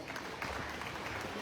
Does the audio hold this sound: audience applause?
yes